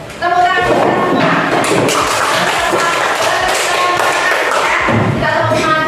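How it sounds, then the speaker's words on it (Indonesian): Classroom applause from a group of primary school pupils, a dense continuous patter of hand claps and thuds filling the room, with children's voices mixed in throughout. "Tepuk tangan kita semua."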